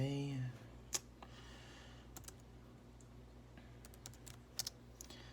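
Scattered key presses and clicks on a computer keyboard, quiet and irregular, after a brief hum at the start; otherwise a low, steady background.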